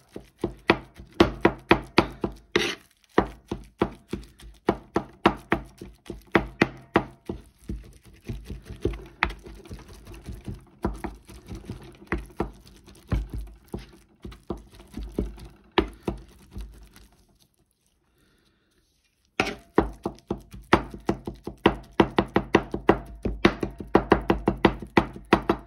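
A kitchen knife chops food on a cutting board in fast, rhythmic bursts of sharp taps, close and crisp, with a brief silent pause before the chopping resumes.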